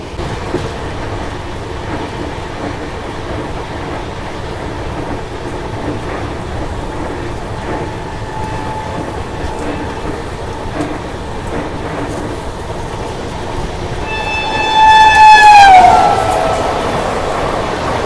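Bharat Gaurav tourist train passing alongside on the adjacent track, heard from inside a moving passenger train as a steady loud rumble with rail clatter and a high whistle-like squeal near the end.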